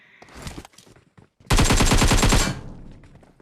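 Gunfire in the video game PUBG: a few scattered, lighter shots lead into a loud, rapid automatic burst lasting about a second, followed by a fading tail.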